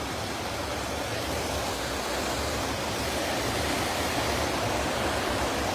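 Water pouring over the spillway of the Araras reservoir in a loud, constant roar of rushing water, heard close and unbroken throughout.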